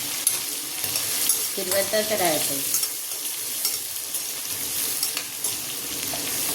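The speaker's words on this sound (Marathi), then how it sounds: "कांदा टाकायचा छान. कांदा लाल होऊ द्यायचा. छान असं फिरवतच राहायचं." Chopped onion fries with cumin in a pan while being stirred, giving a steady close sizzle with scraping stir strokes throughout and a brief humming voice partway through.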